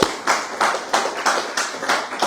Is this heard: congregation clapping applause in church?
yes